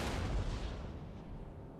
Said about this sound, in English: The roar of the cannon sounds out.